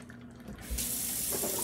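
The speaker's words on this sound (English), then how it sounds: "now is the time that you're going to add either water or you can get some beef broth and add to this." Tap water pours into a pot of oxtail stew, starting after a quiet moment and then running as a loud, steady splashing stream.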